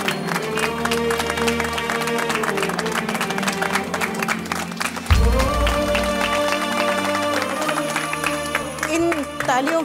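An audience applauds, a constant patter of claps mixed with loud background music, with a deeper swell of sound about halfway through.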